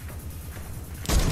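Rapid, faint pops from a small alien gun in Fortnite, ticking in a quick rhythm at a distance before a louder burst closes the moment.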